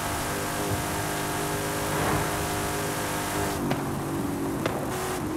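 A Lynk & Co 03+ car in Forza Horizon 5, tuned with 850 horsepower, all-wheel drive and drag tires, its engine revving loud and steady throughout, with a couple of sharp shifts near the end.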